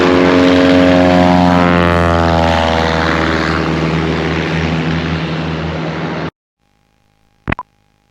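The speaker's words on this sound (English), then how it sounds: "Sulphur Creek traffic, Kitfox taking off" A Kitfox 7 light aircraft with a propeller engine takes off downhill from the Sulphur Creek backcountry airstrip in Idaho. The engine drones loud and close, its pitch rising for about six seconds, then cuts to near silence with a couple of sharp clicks.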